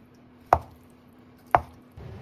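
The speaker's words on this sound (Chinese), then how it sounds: "買了一塊這個鹽滷豆腐哈，我們稍微給它切一切" A knife chops through a block of brine-set tofu on a cutting board, two sharp, close chops about a second apart, followed by a softer knock, with no talking.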